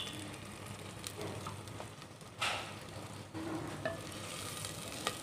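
Whole cumin seeds crackling in hot oil for a Punjabi curry, a steady close sizzle with occasional louder pops and stirring scrapes, no voices.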